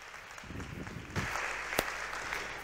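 Audience applause welcoming a speaker onto a stage, a moderate patter of clapping that builds slightly and carries on steadily, heard from within the hall.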